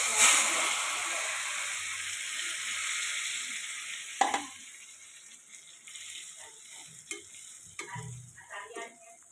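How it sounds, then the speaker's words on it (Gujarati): Boiled mung beans fry in hot oil over a low flame in a kadai, giving a steady hiss and sizzle that is loud at the start and then settles, with a few stirring clinks and scrapes. "ધીમી આંચે આપણે મગને તળી દઈશું,"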